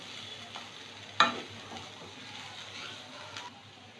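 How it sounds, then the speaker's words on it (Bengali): Bottle gourd peel frying in a pan over medium heat, a quiet continuous sizzle with one sharp utensil clink and faint stirring scrapes, no speech. "এবার ভালো করে ভেজে নেব আস্তা মিডিয়ামে রেখে"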